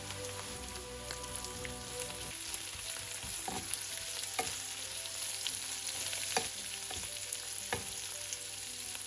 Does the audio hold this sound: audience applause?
no